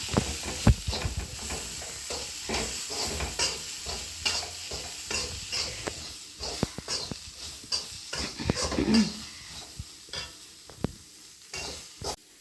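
Spice powders with turmeric and salt sauté in a pan for a green peas curry, giving a soft continuous sizzle broken by frequent scraping stirs of a spoon, close up with no talking.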